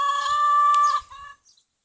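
A pet chicken gives a loud, close cluck-like call with a sustained tonal squawk followed by a shorter second note, then quiet, with no talk over it.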